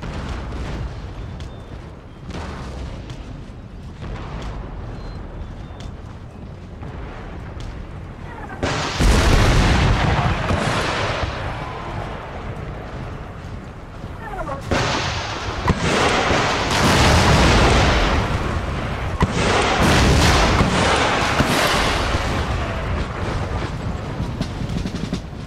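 Cannon artillery booms heavily in an Empire Total War battle, with deep blasts erupting in bursts and overlapping volleys after a quieter stretch of scattered fire and battlefield noise.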